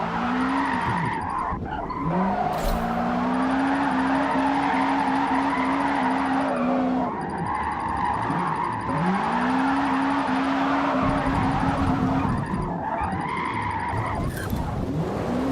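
A car drifts with its tires skidding: long, loud rising and falling squeals from the tires, repeated in several sweeps over a steady engine drone.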